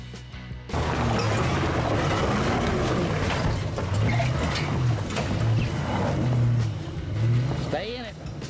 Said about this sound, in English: the Grand Cherokee in front of me, I left a sound in so you can hear him coming up the trail full throttle